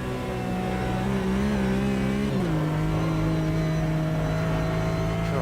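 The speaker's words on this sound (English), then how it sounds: "It sounds good, but then when does a Porsche flat six ever sound bad?" A Porsche flat-six engine in a GT racing car in Automobilista 2 revs loudly and steadily, its pitch rising, dipping and settling into a sustained drone throughout.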